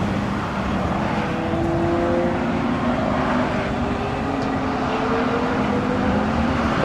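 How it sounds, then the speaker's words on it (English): Pagani Zonda supercar passing on the road during a car show cruise, a loud steady engine drone with a rising and falling tone as it goes by, close and without talk. "That Zonda sounds so good."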